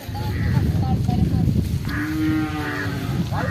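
Several cows in a shed at a Sunday market moo in long, low calls, one clear drawn-out moo standing out near the end over a busy background of crowd noise and faint voices.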